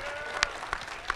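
Fans at the Fiesta Equestria 2017 convention give a band a round of applause in a brief, faint patter of clapping with a few sharper claps and whoops standing out.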